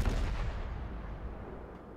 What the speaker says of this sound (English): That was a really nice salvo